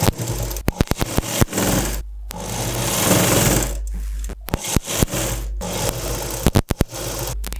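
Sewing machine stitching a jacket seam during a hole repair, running loud and close in a steady mechanical whir, broken by sharp stops, clicks and restarts.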